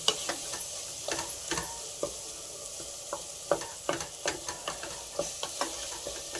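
Green chillies and masala fry in a pan for egg pulao, giving a soft steady sizzle broken by frequent light clicks and scrapes of stirring.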